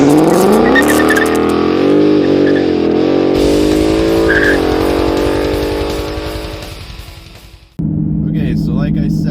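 A 2019 Mustang GT fitted with a Steeda Stop the Hop kit pulls away with a loud, rising V8 engine note, then the revs fall off and the engine drops to a lower, steady rumble after a brief pause.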